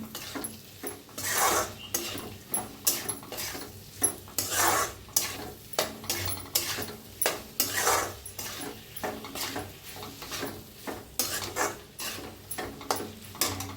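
A spoon stirring guar bean curry with peanut powder in a pan, producing steady rhythmic scraping and clinking strokes over a light sizzle, close and continuous with no talk.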